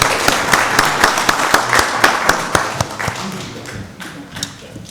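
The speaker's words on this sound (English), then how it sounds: "give her another round of applause." Audience applause at a county board of commissioners meeting, a burst of dense clapping that starts strong and gradually thins and fades over a few seconds, with no talk over it.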